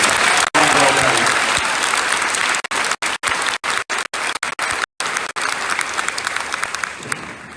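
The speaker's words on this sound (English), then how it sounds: "so let's give them a big round of applause." Loud, sustained audience applause for eighth grade speakers at a school recognition ceremony, filling the whole stretch with dense clapping that is briefly broken by a few short gaps before carrying on steadily.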